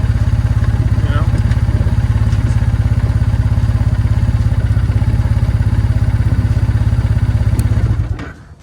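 Close, loud, steady rumble of a Triumph Bonneville motorcycle engine idling, its rapid firing pulse clattering evenly for several seconds before it cuts off abruptly.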